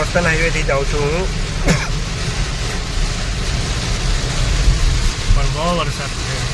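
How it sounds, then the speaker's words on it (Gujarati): Heavy rain pours steadily during a drive on the Bilimora to Valsad coastal highway, a dense continuous hiss with road rumble beneath, while a voice talks over it at the start and near the end. "ભાઈ વરસાદ બહુ છે."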